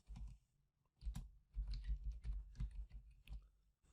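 Python command typed on a computer keyboard, a run of quick, close key clicks in short uneven bursts with brief pauses between them.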